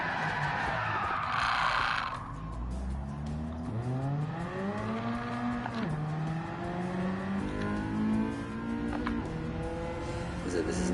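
Car engine in the Gran Turismo racing game, a Cosworth-powered car on a track, rising and falling through gear changes with steady loud revving under a sustained tone, while someone talks over it.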